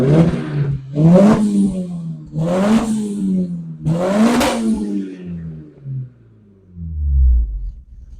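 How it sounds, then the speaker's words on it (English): A Vauxhall Nova fitted with a C20LET engine revs hard four times in quick succession, each blip rising and falling, then settles to a low idle burble; close and loud, without speech. "Yeah, give it a rev."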